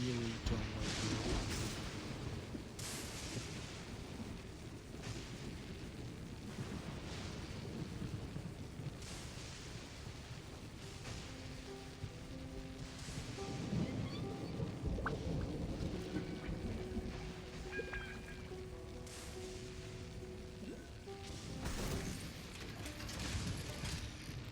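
In Genshin Impact, a Bale Thunder storm rumbles as heavy game thunder under steady rain, with repeated deep booms and crackling strikes over a dense, continuous roar.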